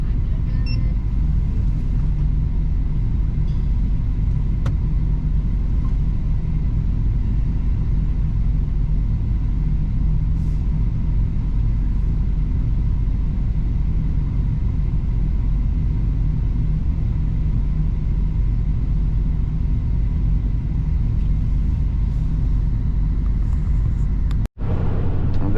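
A Ford F-350 truck drives along a road in the dark, heard from inside the cab as a loud, steady low engine and road rumble that continues unbroken for nearly half a minute.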